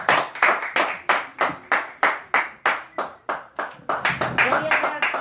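A church congregation claps together in a slow, even rhythm, about a dozen loud unified beats, then breaks into faster scattered clapping near the end, with voices underneath.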